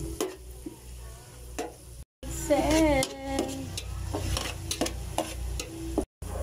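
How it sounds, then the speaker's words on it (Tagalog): Butter sizzles in a pan as a spoon stirs and scrapes through it in repeated strokes, a steady frying hiss running under the clatter, with a brief voice in the middle. "haluin na natin. Kasi baka masunog yung butter"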